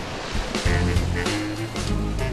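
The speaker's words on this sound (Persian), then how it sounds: "باز هم کنار دریا هستیم." Sea waves wash against the shore at the end of the Fontvieille breakwater in Monaco, a steady, loud broadband surf with a few faint voices in the background.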